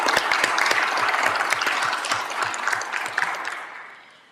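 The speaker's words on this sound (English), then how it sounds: "let's give them a round of applause" Audience at a city public works department meeting breaks into loud, sustained clapping that runs steadily for about four seconds before fading out at the end, with no talking over it.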